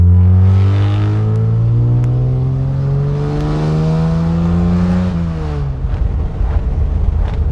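Loud, raspy exhaust of a 1952 Jaguar XK-120 FHC with a single muffler, revving up through rising tones, then dropping to a rough, burbling idle.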